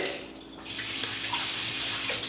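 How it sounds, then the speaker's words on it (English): Tap water runs steadily over apples being rinsed in a sink, a close, continuous splashing rush that rises and fills out after a brief quieter start. "So you know what I'm going to do? I'm going to rinse them off."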